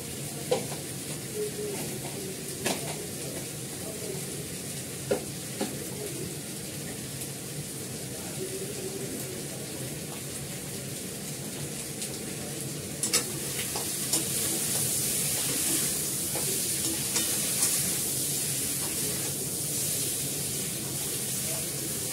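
Mutton sizzles in hot oil while being stirred and turned in a pan, giving a steady close frying hiss with scattered spoon scrapes and clinks, louder in the second half.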